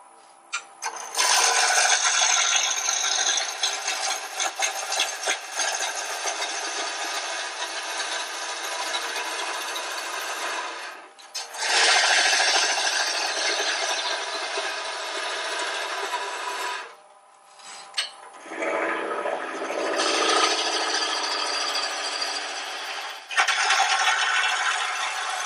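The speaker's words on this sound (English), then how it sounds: "Since I didn't sharpen the point, I can't cut with it, so I'll take the extra 30 seconds." Continuous harsh grinding hiss of a woodturning tool point being sharpened, running for long stretches with brief pauses where the tool lifts off, close and loud with no talk.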